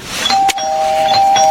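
A doorbell rings with a sustained electronic chime tone over a quiet room background, a brief sharp knock-like burst near the middle.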